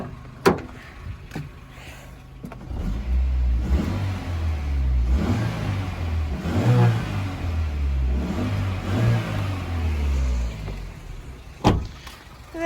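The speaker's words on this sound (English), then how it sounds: "Let's just give it a couple of revs." A small, not very powerful engine in a Suzuki X90 car is revved a couple of times, rising and falling in loud, close swells over its idle, with a few clicks at the start and end.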